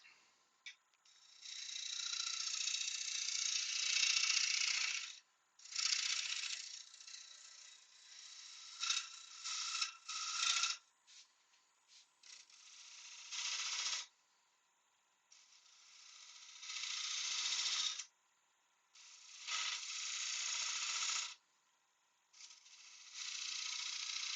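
A wood lathe turns a bowl as a spindle gouge cuts, giving a faint, hissing scrape in long strokes separated by short pauses.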